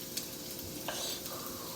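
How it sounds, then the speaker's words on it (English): A spoonful of garlic sizzles in hot oil in a pan, giving a soft, steady crackling hiss with a couple of brief stirring scrapes, close but fairly quiet, with no talking. "Add some oil. We're gonna put 1 spoon of garlic."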